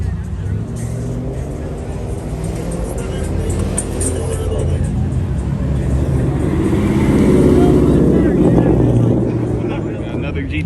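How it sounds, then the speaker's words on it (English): A Hellcat car pulls in at a large car meet with a loud, deep engine rumble that swells and then fades, while people talk over it nearby. "We got another Hellcat pulling in."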